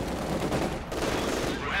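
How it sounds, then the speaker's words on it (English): Machine gun fire in the WWII strategy game Company of Heroes 2, Stalingrad mission, a dense continuous rattle of bursts over battle noise lasting under two seconds. "Oh, there's an MG there."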